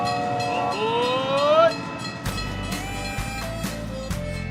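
A train sound effect opens with a rising, multi-tone horn blast, followed by low rumbling and rhythmic clicking wheels, loud and continuous.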